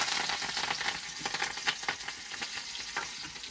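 Curry leaves dropped into hot oil sizzle loudly and steadily, a dense hissing crackle with scattered pops up close and no voices.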